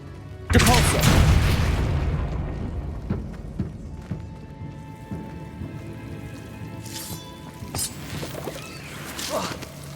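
A Depulso spell goes off in a Harry Potter video game with a loud, close booming blast that rumbles for about a second, then fades into scattered lighter pops, taps and drips.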